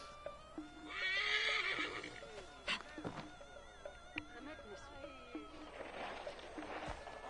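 A video game horse in Assassin's Creed Origins whinnies loudly with a shrill, wavering call, followed by a few quieter snorts and scattered clicks.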